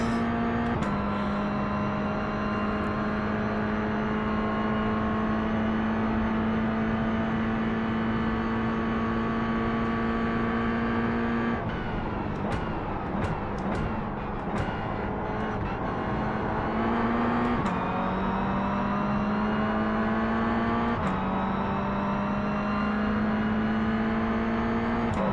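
A Mazda MX-5 race car engine in the iRacing video game drones loud and steady at high revs, easing off and shifting through gears midway before climbing back to a sustained whine.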